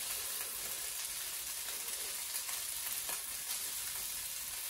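Fried rice seasoned with soy sauce and sriracha sizzles steadily in a hot pan, left sitting on one side to char, a dense continuous crackling hiss with occasional brief scraping stirs, close and even throughout.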